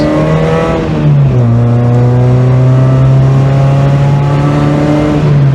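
A Mazda Miata engine pulls hard through the gears on a small back road, its steady drone climbing in pitch, dropping briefly at a shift near the start, then rising again, loud and close with no talking.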